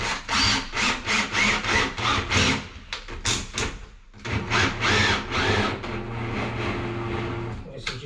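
Power drill grinding into double-ply lined wood in a steady series of pulsing bursts, a brief pause midway, then continuing, loud and close.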